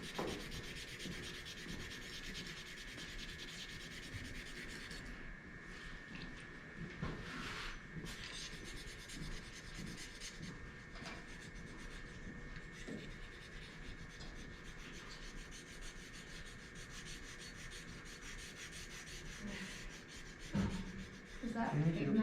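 A pumice stone is rubbed steadily over a lithography stone to polish it, producing a continuous gritty scraping and rasping that stays even throughout, with a faint hum in the background.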